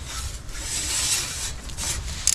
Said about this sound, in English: Here's the grill grate that just kind of slides in here at the bottom.